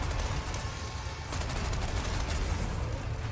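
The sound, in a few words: gunfire in the video game Resident Evil 4 Remake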